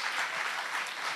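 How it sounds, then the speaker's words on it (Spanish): A church congregation claps steadily for about a second, a dense, even wash of applause with no voices. "Denle un aplauso al Señor."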